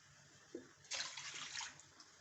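Water poured into a kadai while making raw mango sharbat: a close, steady splashing gush lasting under a second, preceded by a small clink.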